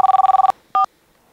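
A new hands-free phone rings with a rapid electronic trill: a burst of pulsing tones, a short gap, then a brief steady tone before falling quiet. No one speaks.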